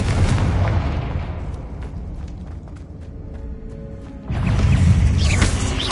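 A Confringo fire spell exploding in the video game Hogwarts Legacy, loud booming blasts with a rumbling tail, a fresh heavy burst landing near the end.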